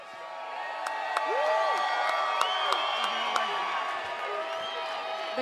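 A fight-event crowd cheers and whoops steadily throughout, with scattered shouts and claps rising early and then holding, heard from a distance in a large hall.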